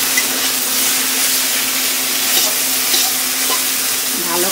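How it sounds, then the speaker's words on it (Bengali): Pumpkin greens frying with potato and lentil dumplings (dal bori) in a home kitchen pan, a loud continuous sizzle with steady stirring scrapes throughout and no talking. "একটু ভালো করে ভেজে ভেজে নিলে ভালোই সেন্ট বেরায়"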